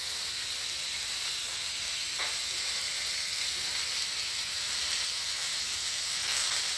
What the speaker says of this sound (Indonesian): sudah masukkan ke wajan dengan sedikit kompor yang sudah nyala ini, yang tinggi, lemaknya sudah mulai menyusut, mengeluarkan minyak.